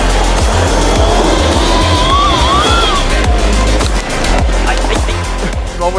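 An Eride Pro SR 25 kW electric motorcycle does a hard burnout launch, rear tire scrabbling and spitting gravel over a loud rushing roar, close and continuous with scattered crackling impacts.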